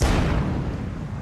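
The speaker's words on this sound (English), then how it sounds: "A rascal stepped forward, loaded the cannon, and fired it." A pirate cannon fires in one heavy, close boom with a deep rumbling tail that fades slowly.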